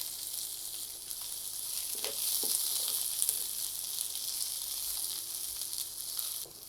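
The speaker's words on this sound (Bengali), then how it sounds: "রসুন আর পেঁয়াজটাকে ভেজে নিয়েছি" Peeled garlic and chopped onion fry in a pan, a steady bright sizzle with a few soft stirring knocks, fairly quiet and with no speech.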